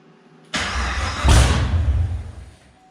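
A 2017 Chevrolet Camaro ZL1, a fire-damaged 780 HP car, cranks and fires up with a loud sudden burst, surges into a rough rising roar, then dies away after about two seconds; no one talks.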